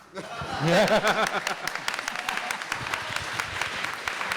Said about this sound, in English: A huge round of applause to our panelists